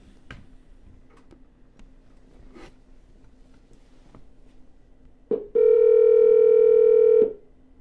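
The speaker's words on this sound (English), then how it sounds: "let's start smiling and dialing, and let's lock up a wholesale deal today" A phone line during a real estate cold sales call: quiet faint clicks and ticks, then a loud steady electronic tone held for about two seconds before it cuts off.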